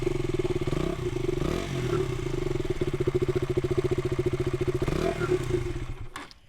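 A used motorcycle with an underbelly exhaust runs close by, its engine thumping in a fast, even pulse that rises slightly in pace with a light blip of throttle before cutting off at the end.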